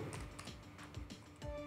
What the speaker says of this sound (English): I will type here IP address of this BeagleBone.